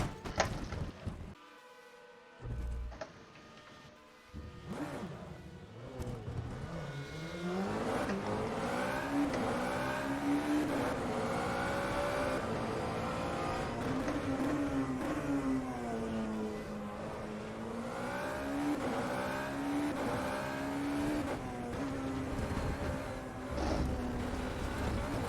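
Formula Renault 3.5 race car engine in a racing video game at the Portugal GP circuit, revving steadily with rising and falling pitch through gear changes, loud and continuous after a brief quieter start.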